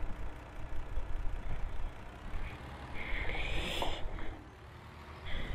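Tractor engine idling and revving steadily while manoeuvring with a tanker in a German farming video game, a low continuous drone with a faint high whine midway and a brief dip near the end.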